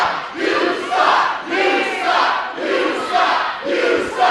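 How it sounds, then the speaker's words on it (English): A wrestling crowd at a Challenge of Champions show chants in a loud, rhythmic pattern, the voices swelling and falling in regular beats about once a second. "I'm not sure if that chant that the crowd has got going is in reference to Cameron Cage or Cindy"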